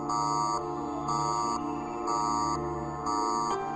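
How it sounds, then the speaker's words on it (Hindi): An office fire alarm sounds in four steady, evenly spaced electronic tones, loud and close with no talking over them. "ये आग का अलार्म है।"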